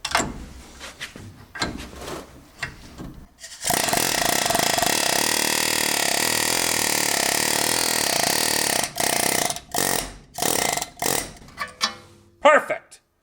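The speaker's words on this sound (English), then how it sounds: "Let's get our favorite tool. Yes. Yes. Air hammer has been charged." Pneumatic air hammer working on a 1977 Toyota SR5 pickup during reassembly: a loud continuous rattling burst lasts several seconds, followed by shorter choppy bursts, with scattered clanks and some talk around it.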